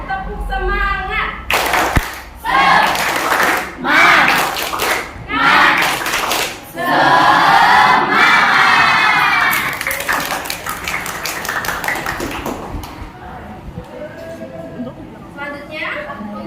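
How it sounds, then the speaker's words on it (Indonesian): Junior high students in a school guidance session perform a rhythmic spirit clap, tepuk semangat: groups of sharp, unison claps in patterned bursts, then quick bouts of applause, mixed with a teacher talking and the class chanting along. "Baik, semuanya kita lakukan saja. Tepuk semangat."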